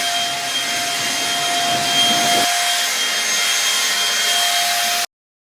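A leaf blower roars steadily up close while clearing seeds and debris off a front porch, its tone shifting partway through, then cutting off abruptly.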